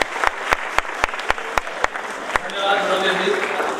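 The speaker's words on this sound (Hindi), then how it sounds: "जोरदार तालियों से स्वागत करें प्रवीण जी का।" Hands clap in a slow, steady beat at an Ambedkar Jayanti gathering, then a fuller wave of crowd applause swells in to welcome a speaker.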